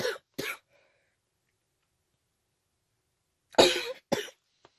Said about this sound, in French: je tousse encore tellement